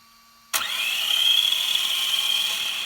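An electric motor in a Tamiya Top Force Evo RC car, upgraded and set to maximum throttle limit and motor timing, spins up abruptly from silence into a steady, high-pitched whine held at full throttle.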